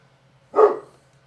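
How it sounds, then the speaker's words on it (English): One short, sharp dog bark, fairly close, standing out against a quiet background with a low hum. "Sorry about the barking dog once again."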